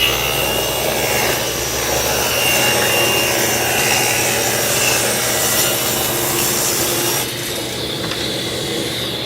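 A saw cuts through the straight edge of a plywood sheet guided along a fence in a wood shop, a loud continuous rasping whine that holds steady for several seconds before easing slightly near the end.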